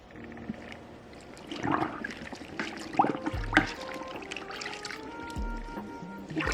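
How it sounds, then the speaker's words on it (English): A comb stirs a Rit dye bath, giving soft swishing and trickling water sounds that rise and fall close by, with faint background hum. "to stir it, I'm gonna use this comb"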